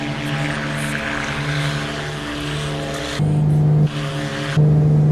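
Steady propeller drone of a Black Square B60 Grand Duke twin-engine plane at takeoff in a flight simulator over New Guinea, loud and close with a humming tone that steps up in pitch and volume toward the end.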